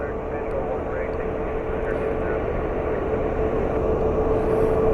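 An Airbus A350 airliner at Washington Dulles airport gives a steady, loud, broadband engine roar that holds close and constant, swelling slightly toward the end.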